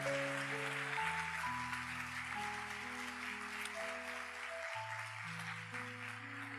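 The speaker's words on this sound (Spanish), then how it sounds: "si va a dar un aplauso al Señor" Congregation applauding in a church, a steady dense wash of clapping that carries throughout, with sustained organ or keyboard chords playing underneath.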